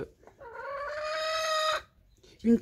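A hen lets out a long, drawn-out call, then falls quiet before a short, sharp cluck close by.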